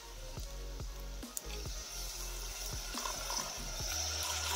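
Water pours steadily into a pan of vegetable bhaji, a continuous close splashing stream with a faint hiss underneath, running without a break throughout.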